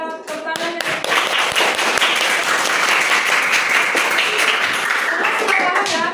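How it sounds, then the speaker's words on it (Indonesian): A classroom of students clapping together in appreciation, a brisk, dense round of hand claps starting after a brief spoken moment and continuing steadily, close and loud. "Mari kita apresiasi dulu. Karena diri kita, mari kita tepuk tangannya."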